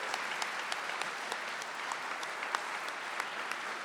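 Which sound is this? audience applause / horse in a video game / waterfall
audience applause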